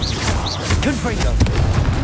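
Confringo blasting spell in Hogwarts Legacy: rapid booming impacts and crackling bursts tumble over one another within two seconds, loud and close, with voices and chirping tones layered through the chaos.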